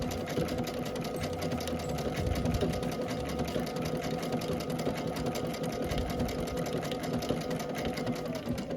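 Sewing machine running steadily through a blanket stitch on patchwork fabric for a scrappy Dresden quilt block, a continuous close mechanical whir with rapid needle ticking and no talk.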